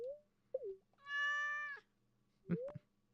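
A cat meows in Stardew Valley: a short call, then a long drawn-out meow, then a final brief mew, each standing clear against a quiet game background with no talking.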